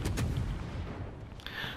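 Destroyer guns firing in World of Warships Legends on the French MN Aigle, a quick cluster of deep booming shots at the start, then rumbling decay and a faint whistling tail.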